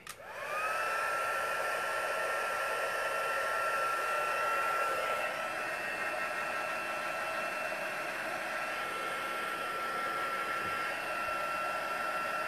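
A craft heat tool runs steadily, a loud, close, continuous blowing whoosh with a high whine that starts abruptly and holds for the whole stretch.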